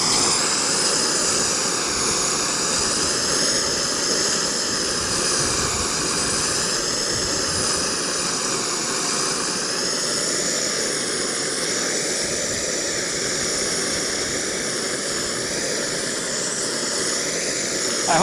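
A propane torch playing over curly maple wood makes a loud, continuous roaring hiss with a slowly wavering tone. It holds steady and close for the whole stretch with no talking.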